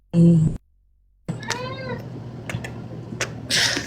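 A cat meows loudly up close during a live stream, with short wavering cries between bursts of room noise and people talking nearby; a voice may imitate the meows.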